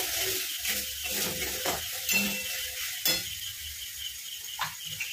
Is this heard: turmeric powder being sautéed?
yes